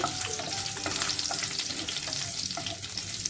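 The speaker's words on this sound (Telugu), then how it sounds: "పోపు వేయాలి బాగా" Cumin, mustard seeds and dried buttermilk chillies temper in hot oil for tomato dal. The close, loud sizzle crackles continuously for a few seconds and nobody talks.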